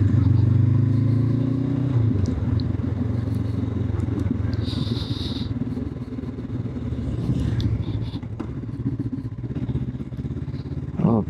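Honda CB motorcycle ridden then slowing for a stop, engine rumble and revving strongest at the start, fading to idle with clatter and scraping noises, no talk.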